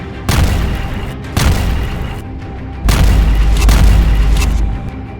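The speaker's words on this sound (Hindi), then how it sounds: "इजरायली लड़ाकू विमानों ने लेबनान में घुसकर हिजबुल्लाह लड़ाकों पर भीषण हवाई हमला किया है" Heavy, loud explosions from an Israeli air strike on Hezbollah positions in Lebanon: three deep booms in succession, each followed by a sustained rumbling roar, with the last blast the longest and most powerful.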